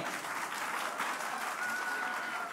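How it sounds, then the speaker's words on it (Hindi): A studio audience at a televised Hindi debate show breaks into loud, dense applause that holds steady for a couple of seconds, with a faint tonal whine running underneath. "जोरदार तालियां बजा लीजिए खुद के लिए"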